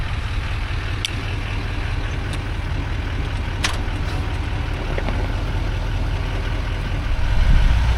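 Truck engine idling nearby at harvest time, a low steady rumble continuing for the whole stretch, with a few faint clicks and a slight swell in loudness near the end.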